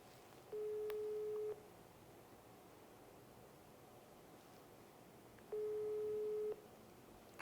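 Telephone ringback tone while a call is placed to a guest, two steady one-second beeps about five seconds apart over faint background hiss.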